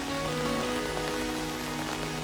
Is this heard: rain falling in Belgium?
yes